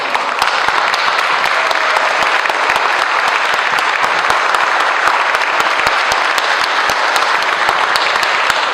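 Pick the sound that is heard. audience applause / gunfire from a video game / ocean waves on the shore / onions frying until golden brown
audience applause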